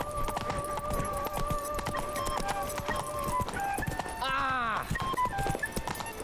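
Roach, the horse in The Witcher 3, gallops with steady hoof clip-clop under game music and effects, and a whinny-like sweep rises near the end while speech runs over it.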